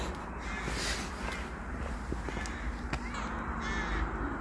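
Crows caw repeatedly outdoors on a green island in the Atlantic Ocean, harsh calls at moderate distance, with faint footsteps and light ambient noise in between.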